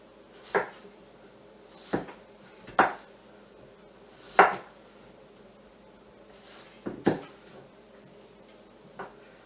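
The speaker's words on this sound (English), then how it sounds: "Always watch where your fingers are when you cut with a knife." A knife chopping potatoes on a cutting board, six or seven separate knocks at uneven intervals, close and clear against a quiet room.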